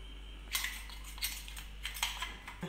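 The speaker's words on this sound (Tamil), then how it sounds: "இப்போ வந்து நம்ம இந்த பவுடரை போட்டு நல்லா கலந்து விட்டுக்கலாம்." A spoon stirs powder into thick colostrum milk in a bowl for a cake, making a series of sharp, close clinks and scrapes at an irregular rhythm over a low steady hum.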